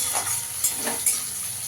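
Onions frying in a pan for an echor chingri curry, a steady close sizzle with soft stirring scrapes rising and falling, and no voices.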